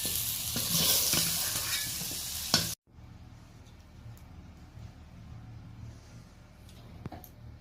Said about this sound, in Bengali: এবার বড়িটা ভেজে নেব।